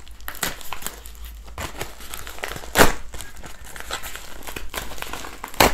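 A plastic pouch package from a Temu order is opened with crisp crinkling and crackling, with bursts of rustle and one sharp, louder tearing crunch midway, all close to the microphone.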